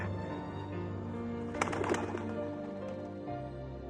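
A messenger bird carrying a letter gives a soft cooing call over a steady background hum, brief and fairly close.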